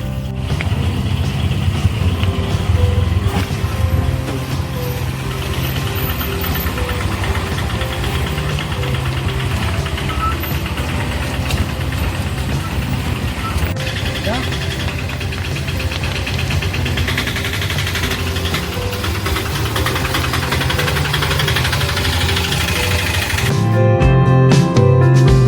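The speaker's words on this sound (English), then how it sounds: "The road is rough, so hold tight if you are taking a tuk-tuk." A tuk-tuk engine chugs along a rough forest road between Adavikanda and Warnagala, a steady, loud, knocking drone with rattling vibration that continues for the whole stretch and briefly changes near the end.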